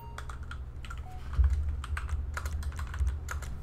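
Computer keyboard keys pressed in a run of quick, uneven clicks and taps, close and fairly clear, with a low steady hum underneath and no talking.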